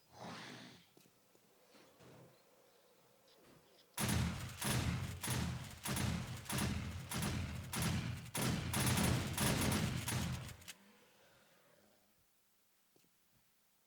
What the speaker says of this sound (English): let the old shotgun turrets do the work